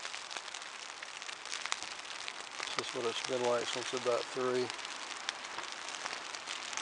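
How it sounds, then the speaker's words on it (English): Cold, steady rain with wind on the Ouachita Trail in March, a dense patter on a tent or gear that keeps going while someone talks over it. "You can hear the wind and the rain."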